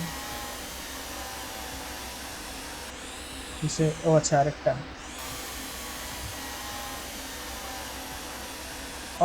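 In the train game Derail Valley, a brief whirring burst of a power drill fastens a light mount onto a locomotive roof. It rises over a steady background drone while someone talks around it.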